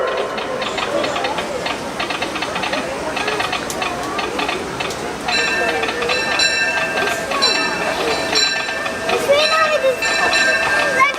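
A Disneyland Railroad steam train rolls into a station with hissing steam and rumbling wheels, while an announcer speaks over a crowd and bell-like chimes ring near the end.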